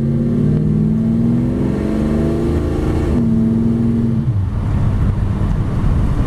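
A 1955 Chevy Bel Air two-door post resto-mod with a ZZ4 engine and 700R4 transmission drives off after a U-turn, its loud, close V8 note climbing and shifting through rising harmonics, then settling into a rumbling cruise.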